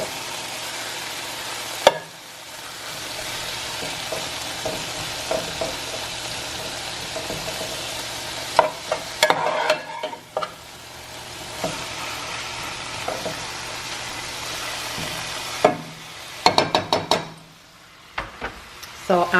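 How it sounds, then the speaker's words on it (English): Ground beef fries with vegetables in a pan, a steady close sizzle punctuated by scraping stirs and clattering knocks of a utensil against the pan, growing busier toward the end. "And now I am cooking my ground beef."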